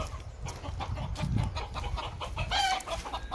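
A rooster and hens cluck and call close by on a farm, a run of short throaty squawks and clucks with one brief higher crowing cry, over a constant rustling background.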